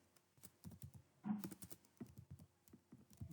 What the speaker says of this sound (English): you can type the questions